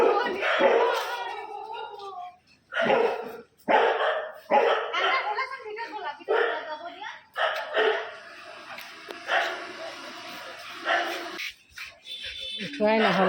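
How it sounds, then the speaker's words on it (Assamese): A dog barks repeatedly at close range, loud sharp yelps coming in irregular bursts with short gaps, mixed with people talking nearby. "আয়ো কি ধুনীয়া কুকুৰটো"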